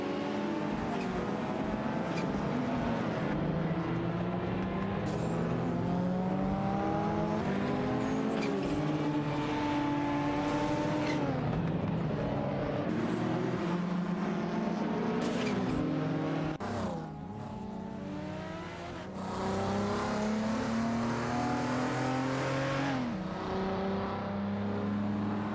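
Race cars in a racing video game, including a Nissan Skyline R31 GTS R, battling on track, with loud continuous engine whine and rising and falling revs from several cars throughout, with no talking.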